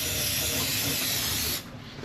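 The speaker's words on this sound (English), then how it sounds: "so now I just want to spray it one more time" A spray can hisses in one steady, close burst during a water pump replacement on a 5.7 Hemi engine, then cuts off abruptly, leaving quiet.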